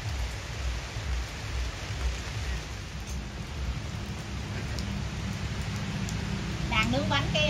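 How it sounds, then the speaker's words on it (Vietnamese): A continuous rain shower beats down around an outdoor cooking spot where snacks are being grilled, a broad steady wash of falling water, with a voice and a brief chirp rising near the end. "Rồi bây giờ thì mưa nữa rồi. Mấy hôm nay là lụi hụi là mưa hoài."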